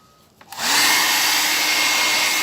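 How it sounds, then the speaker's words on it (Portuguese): A hair dryer switches on and runs steadily at maximum setting, a loud, constant broadband whoosh and whine that begins after a brief click and holds without talk. "secador no máximo"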